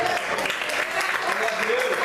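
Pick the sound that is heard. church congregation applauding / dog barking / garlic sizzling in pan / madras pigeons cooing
church congregation applauding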